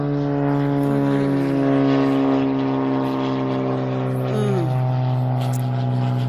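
An aircraft engine drones steadily and fairly loud, its strong tonal hum shifting slightly in pitch partway through as the engine note changes.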